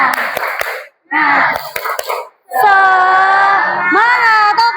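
A school class does the 'tepuk semangat' spirit clap, bursts of rhythmic group clapping with sharp beats broken by short pauses, then children's voices chanting loudly together.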